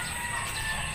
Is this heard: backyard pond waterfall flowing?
no